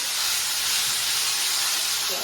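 Tomato gravy with curry leaves cooking in a pan, giving off a constant loud hiss and sizzle that runs unbroken throughout.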